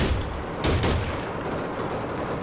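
A flare gun fires in the shooter game APB Reloaded, a loud burst followed by a crackling gunfire rumble and a lingering noisy tail.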